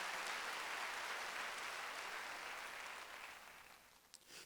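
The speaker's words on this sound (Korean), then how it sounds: "하나님께 박수로 영광을 돌려보시오" Sustained applause from a church congregation during a Sunday service, steady at first and then gradually fading toward the end, with a few last scattered claps.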